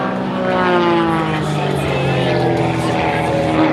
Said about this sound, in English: That new Kato propeller giving him a lot more vertical performance.